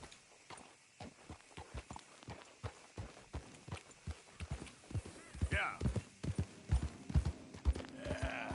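Horse hooves clip-clop at a brisk, regular pace in a PS4 video game, with a background voice and game sounds partway through.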